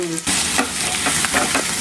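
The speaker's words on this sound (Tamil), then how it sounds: "இப்போ நல்லா தாளிக்கணும்." Onions tempering in hot oil in a pan for a vegetarian feast, giving a steady loud sizzle and crackle with repeated stirring scrapes throughout, no talking.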